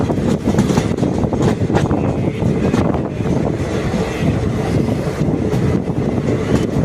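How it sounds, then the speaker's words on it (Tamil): Passenger train rolling into Dindigul railway station in Tamil Nadu, heard from on board as a steady, loud rumble of wheels and carriages with dense rattling clatter throughout. "இப்போ நம்ம திண்டுக்கல் ரயில் நிலையத்தை நம்ம நெருங்கி கொண்டிருக்கிறோம்."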